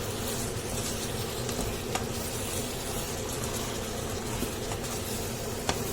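Village-style chicken pieces sizzle loudly in a hot pan for a chicken curry, a dense continuous frying hiss with occasional sharp clicks of stirring, close and steady throughout.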